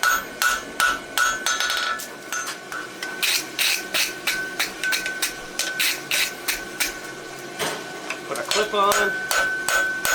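A round hammer strikes steel in a rapid, ringing series of blows while a horseshoe bar shoe is forged, close and loud, with a brief spoken line midway.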